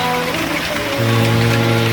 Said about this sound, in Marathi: पाऊस इकडे पडतो आहे खूप